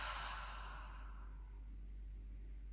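A single soft exhale during a Pilates spinal mobility exercise, a breathy rush that fades after about a second into a quiet room.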